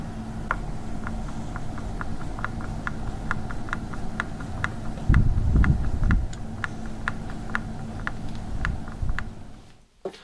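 Screws are driven into Squier guitar hardware with a steady run of small, evenly spaced ticking clicks, like a ratcheting screwdriver. A brief low thump comes midway and a soft knock at the end, with no speech.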